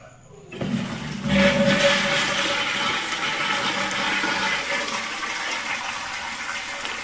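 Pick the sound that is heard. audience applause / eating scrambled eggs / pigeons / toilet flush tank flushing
toilet flush tank flushing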